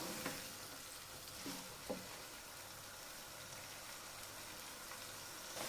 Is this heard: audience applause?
no